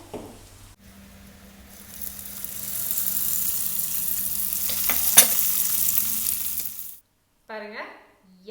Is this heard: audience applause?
no